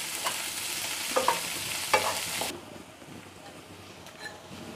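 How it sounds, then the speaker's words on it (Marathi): Chopped onion and garlic stir in a hot pan with a steady sizzle, loud at first with a few scraping stirs, then dropping to a quieter fry partway through. "कांदा लसूण मी फक्त 1 मिनिटभर परतून घेणार आहे।"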